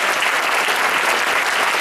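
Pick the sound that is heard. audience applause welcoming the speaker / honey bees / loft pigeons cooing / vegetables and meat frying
audience applause welcoming the speaker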